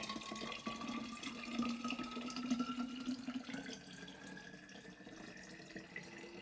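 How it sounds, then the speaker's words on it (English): Water from a fridge pours into an insulated vacuum flask, a faint steady trickle with a slowly rising pitch as the bottle fills, quiet and close. "So now I'll fill it up with fridge water."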